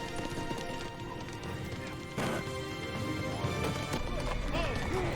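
Horses galloping in a TV episode: a dense, continuous clatter of hooves under music and rumble, with a sudden louder crash partway through and a brief whinny-like cry.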